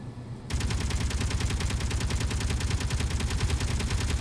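Rapid automatic gunfire from an enemy base in the space-building game Space Engineers starts abruptly and continues as a dense, even stream of shots, loud and unbroken with no voices.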